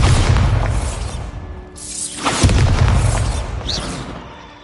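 Bombarda spell blast in Hogwarts Legacy: a loud booming explosion with a deep rumbling tail, a sharp second burst and crackling debris midway, then a fading rumble.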